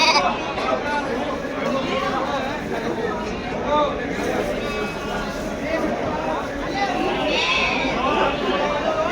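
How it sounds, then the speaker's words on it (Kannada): Young Bandur lambs, about two and a half months old, bleat repeatedly at a sheep farm sale in Mandya, their cries overlapping amid steady chatter and crowd noise. "ಒಳ್ಳೆ ಕುರಿ ಆಗೋದು ಇದು."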